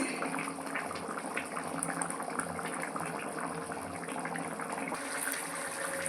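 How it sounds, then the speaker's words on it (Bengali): A pot of Bengali muri ghonto made with fish heads simmers at a steady boil, with a soft continuous bubbling and gurgle, fairly quiet and without talk. "আমার মুড়িঘণ্ট প্রায় আর হয়ে আসছে একদম টক টক করে ফুটে উঠেছে"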